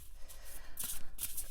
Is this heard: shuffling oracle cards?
yes